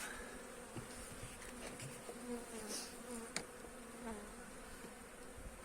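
Honeybees hum steadily around an open hive during a spring inspection. The buzzing is continuous and fairly faint, with occasional louder passes of bees near the hive, and no voices.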